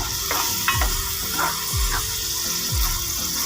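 Tomatoes go into a hot pan for daal mash, bringing a steady close sizzle with a few soft stirring scrapes and light wet clatters repeating about once a second.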